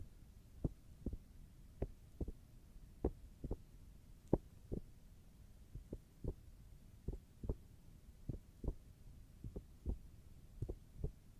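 A book is tapped in a slow, even double-thump rhythm that closely mimics a heartbeat, with soft, close, muffled knocks repeating about twenty times over a faint hum and no talking.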